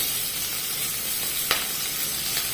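Chopped green chilli goes into hot oil with cumin and curry leaves, giving a close, steady hiss of frying with one brief crackle.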